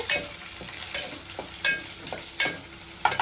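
Chopped onions fry with green chillies in a pan, a low steady sizzle broken every half second or so by close scraping strokes of a spoon stirring them.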